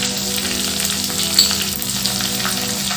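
Vegetables and spices, with asafoetida, sautéing in oil, a steady close sizzle with light crackles and a faint stir midway.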